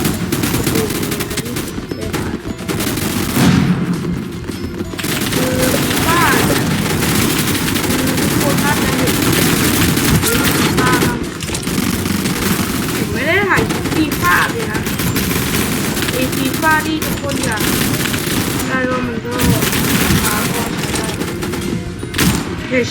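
Loud, continuous gunfire from a gun in a shooting video game, with rapid bursts and repeated shots that run almost unbroken throughout.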